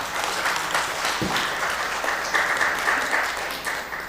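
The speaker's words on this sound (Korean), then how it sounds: "우리 박수로 한번 환영하겠습니다." A church congregation applauds in welcome during a Sunday worship service, a dense, steady wash of many hands clapping that carries evenly through the whole stretch without pause.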